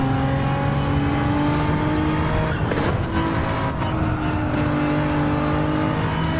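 Race car engine pulling hard in third gear, loud and close, with a steady rising drone and a brief rough burst near the middle before it settles back into a sustained whine.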